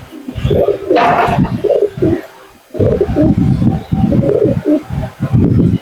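Old-generation pigeons in a loft coo loudly and close up in repeated low, throaty phrases, with a brief pause partway through.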